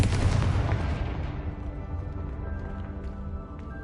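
Confringo fire spell exploding in the Hogwarts Legacy video game, a single loud booming blast that rumbles and decays over a few seconds.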